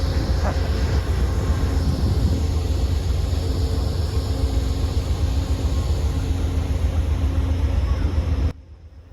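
An Amtrak Coast Starlight train's locomotive engine rumbles loudly and steadily up close, a continuous heavy drone that cuts off abruptly at the end.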